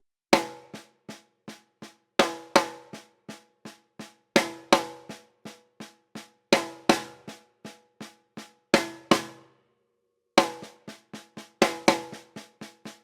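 A six-stroke roll drum rudiment played as sextuplets on a snare or kit, in repeated crisp bursts of rapid strokes with accented hits, separated by short gaps and heard alone without talk.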